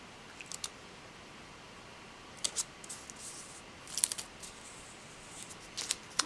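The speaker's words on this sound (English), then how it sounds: "I'm just going to snip off the end." Scissors snip repeatedly at an uneven pace, crisp little cuts in small clusters, close by in a quiet room with no voices.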